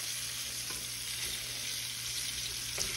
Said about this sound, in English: make sure you sear them on all four sides